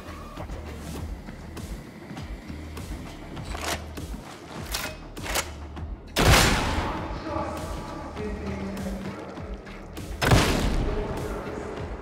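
A Lawbringer firing linesman shells sets off two heavy booming blasts several seconds apart over steady combat noise, with a voice talking throughout.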